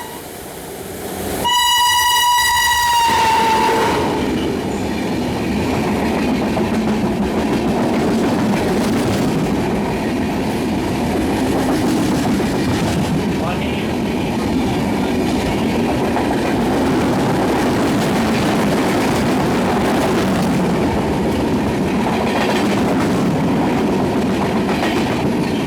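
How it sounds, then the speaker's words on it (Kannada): The Mandovi Express crosses another train on the Konkan Railway in the monsoon. A loud two-tone horn blast opens, then a long, steady roar of passing coaches with rhythmic wheel clatter, close and continuous. "Mandavi express crossing with Mandavi express"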